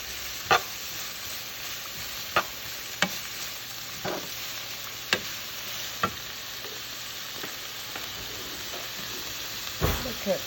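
Seasoning vegetables for Jamaican escovitch fish sauté in a pan with a soft, steady sizzle, broken every second or so by sharp spoon knocks and scrapes against the pan.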